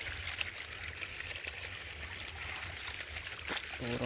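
Water gushing from a broken pipe on a storage tank makes a steady, close rushing and trickling stream, continuous throughout with a faint splash near the end.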